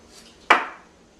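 A single crisp cut as a knife slices through a zucchini while preparing raw lasagna, a sharp close attack that trails off quickly into near silence.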